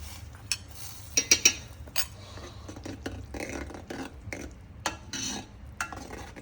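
Tadka tempering going into a pot of whole masoor dal and being stirred, with soft sizzling, spoon scrapes and a few sharp metallic clinks against the pot, close and moderately loud.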